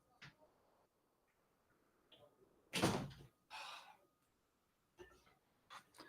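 A house door is opened to let out a dog that had been scratching at it. Scattered clunks and one louder bang come from the door and latch in a quiet room.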